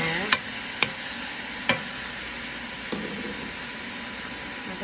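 Chopped onion goes into a simmering sauce and sizzles softly while a spoon taps and scrapes the pan a few times, close up and without talk.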